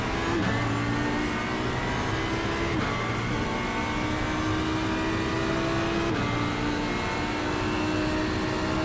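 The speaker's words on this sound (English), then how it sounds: "Faster car coming up quick." At Sebring, a car's race engine drones loudly and steadily while another, faster race car closes from behind, with the engine pitch shifting a few times through gear changes.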